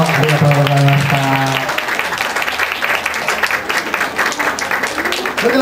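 After a vocal group's singing performance at an anniversary event, an audience breaks into loud, sustained applause. A held, sung note fades under the opening clapping, and a voice is heard faintly through the crowd.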